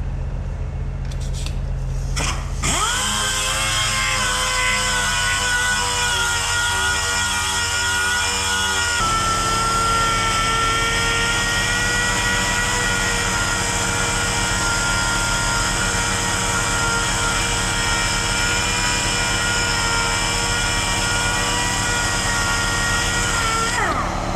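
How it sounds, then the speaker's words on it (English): Power tool running steadily with 320 grit sandpaper pressed against the edge of a trailer wheel, a loud continuous whine and grinding hiss that shifts in pitch after a brief start-up, with no talking. "So we got some 320 grit sandpaper on here. We're just going to run this around this edge here real quick."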